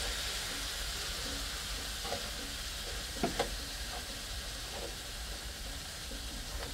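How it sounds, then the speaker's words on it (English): Courgette and bacon sizzle steadily in a frying pan while being stirred, a constant hiss throughout with a few brief scraping knocks of the spoon near the middle. "So just give that a good stir."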